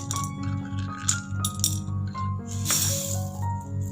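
Mixed dry dal lentils are poured into a bowl, giving a close, crisp rattling patter with scattered clinks over a low steady hum.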